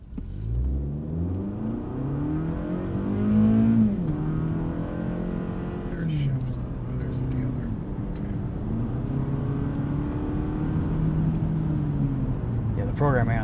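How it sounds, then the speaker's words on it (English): A 2020 Toyota Camry AWD XLE engine building revs under acceleration, a coarse mid-level drone from inside the cabin that runs steadily beneath someone talking almost the whole time. "let's see if we give it a little acceleration here"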